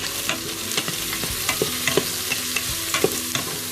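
Garlic cloves and onions fry in a pan as a utensil stirs them, giving a steady sizzle broken by repeated scraping clicks and knocks at close range, with no voices.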